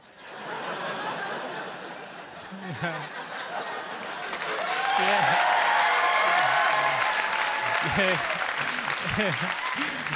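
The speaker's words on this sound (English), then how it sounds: "You took a little long on that clap now" A television studio audience applauds a stand-up comedy bit, the clapping swelling louder midway and mixed with scattered chuckles and laughter, while a voice talks intermittently over it.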